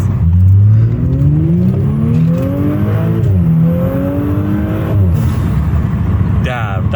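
Audi S5 B9 with an Injen cold air intake revving, the engine pitch climbing and falling in several sweeping pulls with a sharp rise near the end. Loud and close, with people talking over the engine.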